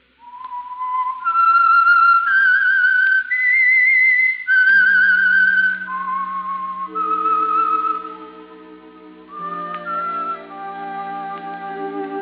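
A clear, loud whistled melody, the theme of the radio drama The Whistler, a slow tune of sustained notes, later joined by soft orchestral accompaniment.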